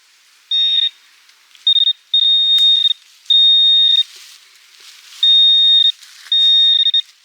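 Metal detector signal tones from a Polish World War II relic hunt in the field: six loud, steady electronic beeps of about half a second to a second each, separated by short gaps, with no talk.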